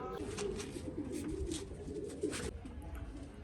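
Pigeons in a loft coo close by while being fed grain, a steady run of low, throaty warbling calls that overlap one another without pause.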